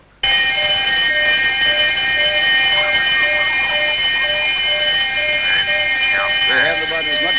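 An electronic alarm rings steadily and loudly throughout, a continuous multi-tone electric ring with a faint voice briefly audible beneath it near the end.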